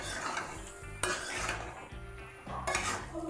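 A spoon stirs spiced curry in a metal pan, scraping and clattering against the sides in uneven strokes over a faint, low sizzle, close and with no talking.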